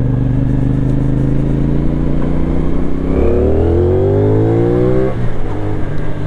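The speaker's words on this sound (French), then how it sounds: "On accélère, on fait son petit dépassement et après on freine fort" A CF Moto 450 NK motorcycle accelerating to overtake: steady engine drone, then rising revs as it pulls through a gear, a brief drop at a shift and another climb, loud and close throughout with no talk.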